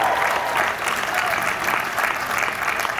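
A Georgia Gwinnett College spring 2016 commencement audience claps and cheers in a continuous, dense burst of applause from a large crowd, swelling slightly in waves across the whole stretch.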